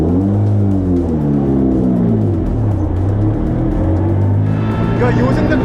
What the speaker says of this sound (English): This engine is really loud.